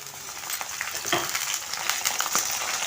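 Fenugreek leaves and ginger fry in a pan with a continuous bright sizzle, overlaid by light stirring scrapes and a few sharper crackles.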